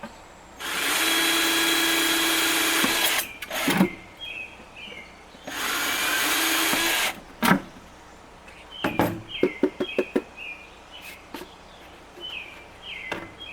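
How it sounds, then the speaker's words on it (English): An electric drill whines loudly in two long, steady bursts boring into a metal can, each ending abruptly, followed by scattered metallic clanks and taps close by. "First thing you want to do is drill a hole."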